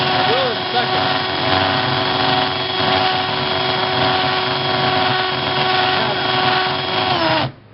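A handheld power drill runs steadily for several seconds, boring without a drill press, its bit rocked slightly; a loud continuous whine holds nearly throughout before cutting off abruptly at the end.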